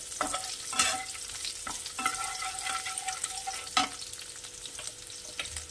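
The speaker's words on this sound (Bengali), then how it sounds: "এবার এই তেলেই আমি যে কয়েক কোয়া রসুন ছিল ওটাকে থেতো করে নিয়েছিলাম" Crushed garlic cloves frying in oil left over from frying fish, a soft continuous sizzle broken by clinks and scrapes of a spoon stirring the pan, fairly quiet and close.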